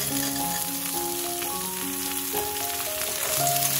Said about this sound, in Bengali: পেঁয়াজটা আমার এখানে দেখো অলমোস্ট ভাজা কমপ্লিট